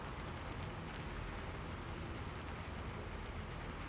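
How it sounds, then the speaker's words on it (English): Steady rain falls outside, a soft, even hiss of drops spread wide with no breaks, faint and distant, and nobody talks. "It's raining out there."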